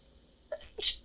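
A single sharp sneeze, a brief intake followed by an explosive burst, close and loud against a quiet background.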